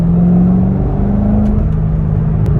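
Sports car engine pulling hard in second gear under part throttle, a loud, steady close-up drone that climbs slightly in pitch and stays unbroken throughout.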